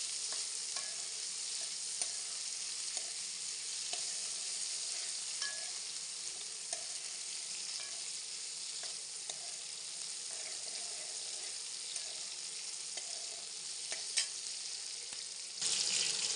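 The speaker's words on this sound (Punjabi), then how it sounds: "ਉਨੀ ਦੇਰ ਤੱਕ ਆਪਾਂ ਪਿਆਜ਼ਾਂ ਨੂੰ ਪਕਾਵਾਂਗੇ ਜਿੰਨੀ ਦੇਰ ਤੱਕ ਆਪਣੇ ਪਿਆਜ਼ ਬਰਾਊਨ ਨਹੀਂ ਹੋ ਜਾਂਦੇ" Onions frying in a pan until browned, giving a faint continuous sizzle with occasional soft stirring touches and a brief clatter near the end.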